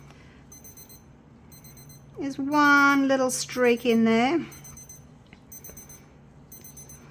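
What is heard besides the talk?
kitchen timer alarm beeping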